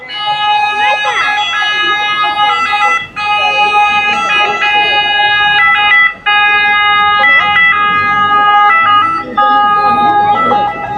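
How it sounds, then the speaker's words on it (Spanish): An ambulance siren sounds near a canal by the Rialto Bridge in Venice, its loud wailing tones stepping up and down steadily over a busy crowd murmur throughout. "Escuchar el ruido de la ambulancia."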